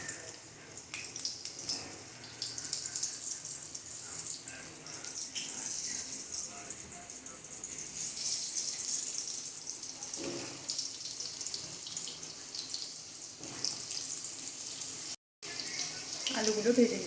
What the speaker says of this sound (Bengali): আমি কড়াতে আলুগুলো ভেজে নিচ্ছি শুক্তোর